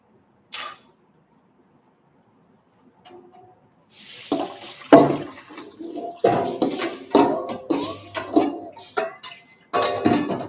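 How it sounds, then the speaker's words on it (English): Tap water rinses a pan in a kitchen sink while stir-fried chicken and fried rice are being cooked, starting with faint clinks, then splashing water and clattering metal in close, uneven bursts. "Give this a quick rinse."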